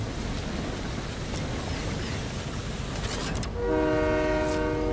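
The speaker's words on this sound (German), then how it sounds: "Ich fahr mit dem Zug weiter. Lauf auf den Zug, Robin!" A train rumbles steadily along in the Fortnite video game, then a loud horn blast sounds near the end over the continuous rolling noise.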